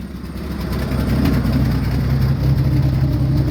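A worn car engine with tired valve seals and rings idles roughly, giving a loud, close, uneven low rumble that holds steady for a few seconds.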